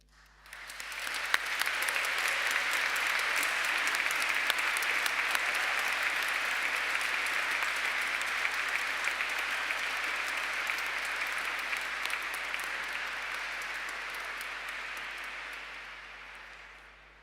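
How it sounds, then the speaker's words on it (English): A graduation ceremony audience applauds inside Canterbury Cathedral, a dense, sustained wash of clapping that swells quickly, holds steady for over fifteen seconds in the reverberant stone space, then tapers off near the end. "So I'd like us to take a moment to remember them and give an applause for them."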